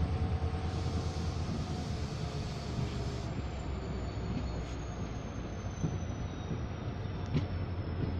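Steady onboard rumble of a passenger train pulling out of Nanjangud town, continuous low rolling wheel and carriage noise with faint squeals and rattles throughout, no talk.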